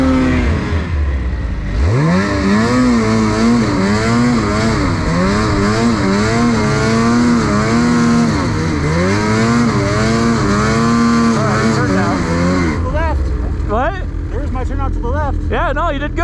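A snowmobile engine at wide open throttle roars loudly and close for the whole stretch, pitch climbing and dipping as it revs, then breaking into choppy throttle blips near the end, with a voice talking over it.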